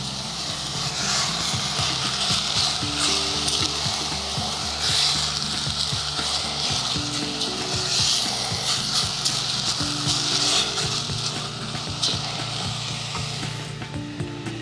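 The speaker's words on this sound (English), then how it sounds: "I would like to add all of them together in our vegetable sauce. And I will keep stirring like this." Vegetable sauce sizzles in a pan while being stirred continuously, a steady frying hiss with soft scraping and clatter woven through it, moderately loud and unbroken throughout.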